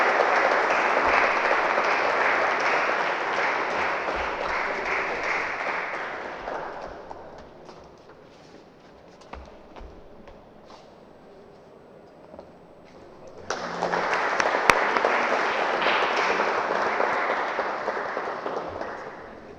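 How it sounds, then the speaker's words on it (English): An audience at an advocacy training course gives a round of applause, dense clapping that fades to near silence midway before a second loud burst of clapping resumes. "can I have a round of applause for all the support that he's lent us"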